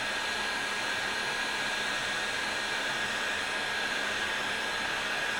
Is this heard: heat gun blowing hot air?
yes